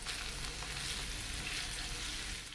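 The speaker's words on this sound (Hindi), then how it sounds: "हमने इसको हल्का सा फ्राई कर लिया, देखिए कलर चेंज हो गया हमारे चिकन का" Small chicken cubes frying in a pan for white sauce pasta, giving a soft, even sizzle with gentle crackle throughout, faint and continuous, without voices.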